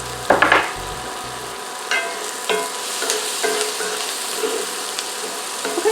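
Onions sizzle in a frying pan with salt and pepper, a steady fry hiss underneath scattered scrapes and clacks of a utensil stirring them, with a low rumble early on.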